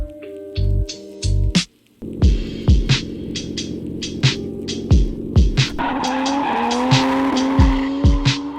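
A Toyota JZX100 Mark 2 drives with its tires squealing and skidding in repeated rhythmic bursts over a steady engine hum, loud and close.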